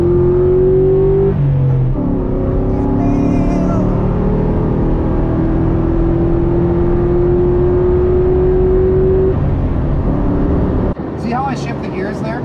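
A New Edge Ford Mustang engine drones steadily under load on a long open straight, its pitch climbing and dropping as it accelerates and shifts through the gears, heard from inside the car while someone talks over it.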